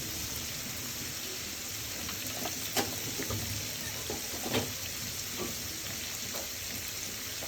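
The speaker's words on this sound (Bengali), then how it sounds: "এবার এটা ভালো করে ভেজে নেব।" Oil sizzles steadily as food with turmeric fries in a pan, a constant close hiss broken by a few sharp pops and crackles, with no voices.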